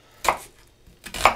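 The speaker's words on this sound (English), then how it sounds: "So, right, back to the chopping." Knife chopping vegetables on a board for Branston pickle, two sharp, close cuts about a second apart, with no talking.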